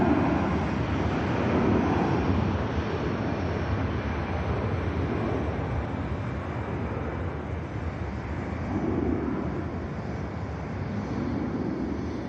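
An Aer Lingus Airbus A321neo rotates off runway 23L at Manchester Airport, its engines producing a steady, loud broadband roar that swells slightly near the end, with wind buffeting the microphone and no talking.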